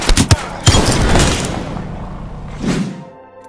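Close, loud burst fire from a weapon in the Apex Legends video game: quick cracks at the start, then a heavier burst with a booming tail, and a final thump near the end.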